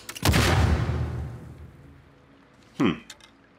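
An explosive arrow in The Last of Us Part II hits and bursts with a loud, close boom that rumbles away over a second or so, followed by a second, shorter sharp impact, with no talking over it.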